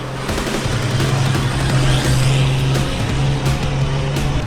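A 4x4 revs hard as it pushes through soft sand on Fraser Island (K'gari), a steady loud engine drone holding from start to finish with a strong low hum and no voices.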